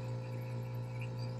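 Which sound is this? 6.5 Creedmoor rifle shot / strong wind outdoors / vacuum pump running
vacuum pump running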